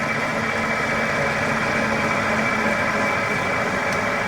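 A wood lathe spins a black walnut blank at about 600 to 650 RPM, giving a steady, loud, continuous motor hum and rumble with no talk.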